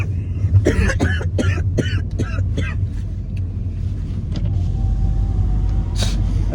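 A person coughs in a quick run of several harsh bursts, then falls quiet, over a steady low rumble of road traffic with a voice heard in the background.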